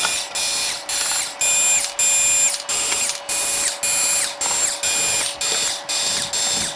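Screws on a Sony Giga Juke are turned by hand with a ratcheting tool, giving a loud, steady series of about a dozen clicking ratchet strokes in even rhythm, close up and with no talk.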